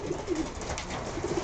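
Racing pigeons cooing in a loft at the Peach Classic: soft, low repeated coos, a few short calls close by over a faint background hum.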